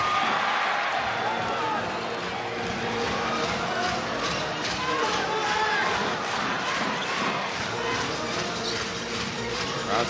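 Crowd in an arena during a professional basketball game between the Formosa Dreamers and Taipei Fubon Braves, a dense steady roar with shoe squeaks and ball bounces underneath, while a commentator talks over it.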